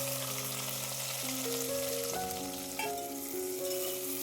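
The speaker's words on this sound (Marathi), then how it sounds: "आता आपण तेलामध्ये एक अख्खा उभा चिरलेला कांदा घालून घ्यायचा आहे." A whole onion, sliced lengthwise, fries in oil with curry leaves for a pavata bhat dish, a continuous dense sizzle that stays steady and close throughout, with faint tonal hum underneath and no talking.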